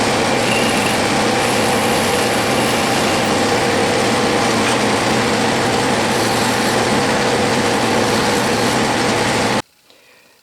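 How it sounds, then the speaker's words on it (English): A metal lathe faces off a part to length on an Atlas gear-cutting fixture, a loud steady machining whine and rumble running unbroken for about nine and a half seconds before cutting off abruptly. "And now I will face it off to the length"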